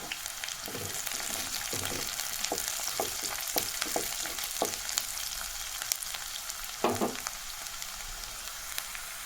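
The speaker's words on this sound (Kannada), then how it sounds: "ನೋಡಿ, ಇವಾಗ ಫ್ರೈ ಆಗ್ತಾ ಇದೆ." Curry leaves frying in hot oil for dal fry, giving a steady, dense sizzle throughout with a few louder crackles and spatters popping out above the hiss.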